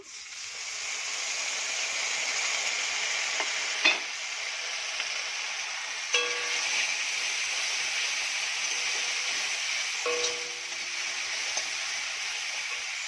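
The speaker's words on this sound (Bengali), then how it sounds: "আদা জিরেটা একটু ভাজা হবে" A ginger and cumin paste fries with onions in a pan, giving a soft, steady sizzle broken by three clinks of a spoon against the pan.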